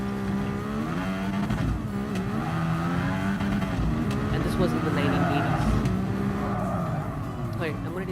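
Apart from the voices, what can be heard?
race car engine in Gran Turismo Sport video game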